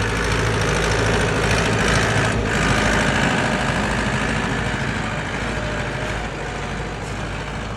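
A tractor engine runs loud and close, holding a steady, rough drone with no pauses.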